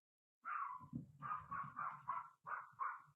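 Pet dogs in a home crafting space let out a run of drawn-out, yowling barks in quick succession, close and clear against an otherwise quiet room.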